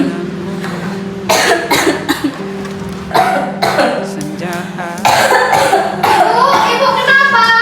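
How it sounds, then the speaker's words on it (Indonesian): A woman coughs in repeated harsh bursts in a fit, close and loud, with a voice speaking between the coughs. "Batuknya kambuh lagi ya Bu?"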